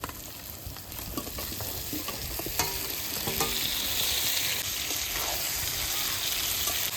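Chicken pieces sizzle loudly in hot spiced oil in a pan while being stirred, a dense continuous crackle with occasional scraping clinks of the utensil and no talking.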